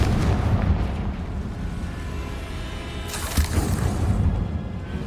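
A Confringo explosive spell going off in Hogwarts Legacy, a sharp booming blast midway through set against low rumbling background noise.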